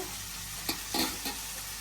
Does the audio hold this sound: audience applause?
no